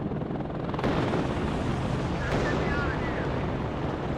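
Artillery fire in the Cold War strategy game WARNO, heard as dense rumbling explosions and booms that roll on without pause, loud and close in the mix.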